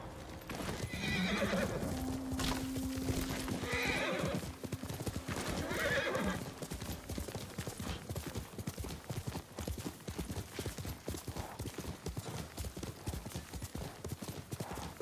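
A horse in the video game Ghost of Tsushima whinnies and neighs loudly over rapid, steady clip-clop of galloping hooves that continues throughout at close range.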